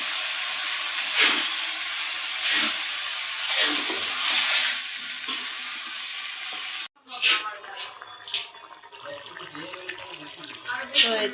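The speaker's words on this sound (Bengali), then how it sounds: "আমি সুন্দর করে কষাই নেব তরকারিটা।" Cauliflower curry sautéing in a pan gives a steady sizzling hiss broken by soft stirring scrapes, then cuts to quieter pan sounds with a person talking.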